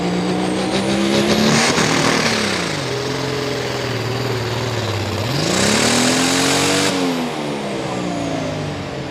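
Heavy pulling truck at a truck and tractor pull roars loud and close, its engine building boost with rising and falling revs and a strained, throaty drone sustained throughout.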